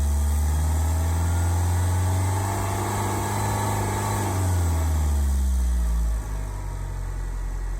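A Ford Fusion 1.4 TDCi diesel engine running on hydrogen idles loudly and close, a steady low rumble with smooth even firing and no knocks, dropping slightly in pitch near the end.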